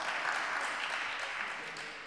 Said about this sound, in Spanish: Lle dá un aplauso ao vicepresidente, que eu tamén me sumo ao aplauso.